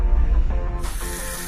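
Water streams from a Teco Auto Water touchless faucet adapter, a steady close hiss of running water that brightens abruptly into a fuller, splashier spray partway through.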